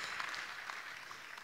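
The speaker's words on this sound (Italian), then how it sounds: "Io farei un forte applauso a Mirko" Audience applause for Mirko at a silk tulip short film festival ceremony, a steady even wash of clapping throughout, moderately quiet with no talk.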